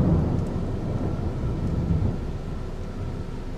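Thunder after lightning in Darkwood: a deep, loud rolling rumble filling the whole stretch, strongest at the start and slowly easing, with a rain-like hiss beneath and no voices.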